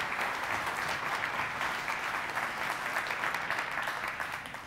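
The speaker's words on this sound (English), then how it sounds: "Another round of applause." A large keynote audience at a Slack developer conference claps steadily, a thick wash of applause that holds even throughout and tapers slightly at the end, with no speech.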